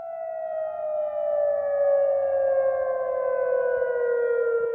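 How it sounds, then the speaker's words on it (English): Air raid sirens sounding across Jordan to mark the start of a mandatory pandemic curfew, a loud sustained wailing tone that slowly falls in pitch, heard alone without voices. "Those are the sounds of air raid sirens to mark the beginning of a mandatory curfew in Jordan"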